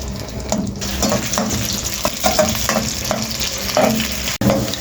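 Onions browning in a pan for a desi egg curry, a steady close sizzle broken by repeated short stirring scrapes and clinks, with no talk.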